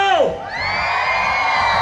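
Live concert crowd in Altamira, Tamaulipas shouts and cheers, a loud whoop rising then sustained crowd noise over held musical tones.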